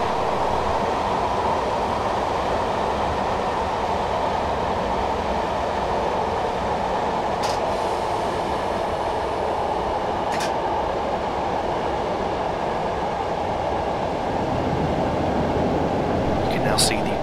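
A Class 421 electric train in Train Simulator 2015, braking on the Brighton to London Victoria route, holds a steady rumble of rolling wheels and cab noise. A few faint squeaks are heard, and the tone lowers near the end as it slows.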